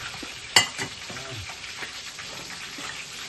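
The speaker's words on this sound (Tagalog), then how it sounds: "Habang tayo prito" Food frying in a pan sizzles steadily up close, with a sharp clack of a utensil near the start and soft stirring scrapes over the crackle.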